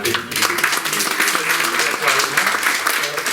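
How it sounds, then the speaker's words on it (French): Audience applause at the close of a debate talk, a dense, steady clapping from a seated crowd that carries through the whole stretch at fairly loud level, with a few voices mixed in. "remercier, et vous pouvez l'applaudir"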